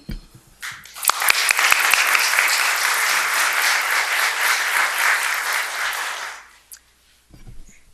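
Audience applause swells quickly and holds as dense, steady clapping for several seconds, then fades out, with brief quiet talk before and after.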